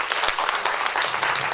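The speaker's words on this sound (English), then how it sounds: "Can we give Mr. Mandevu a round of applause?" A short burst of audience applause, many hands clapping together in a dense, steady patter.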